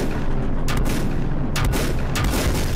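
Gunfire from the video game Volcanoids, heard as three sharp bursts spaced about a second apart, rising over a steady, loud rumble of game noise.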